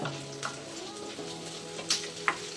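Onions sauté in a clay pot while a drumstick kurma is cooked, giving a soft, steady sizzle with a few light clinks and scrapes from stirring, close but quiet.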